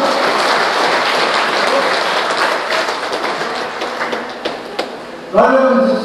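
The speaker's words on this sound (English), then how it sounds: "Give a round of applause again." A crowd at a workers' struggle meeting for Caroni (1975) Limited claps in dense, steady applause that slowly fades, and then a voice begins speaking.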